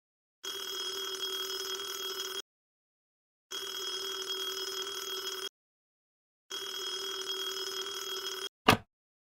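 An old-fashioned telephone bell rings three times in long, even bursts separated by silent gaps, followed by a brief clunk as the receiver is picked up.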